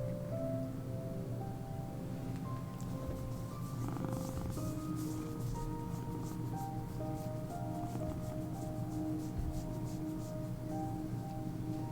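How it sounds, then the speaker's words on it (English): A cat purrs steadily and close up for the whole stretch while lying in someone's lap, a soft continuous rumble with no talking over it. "You guys hear the purrs?"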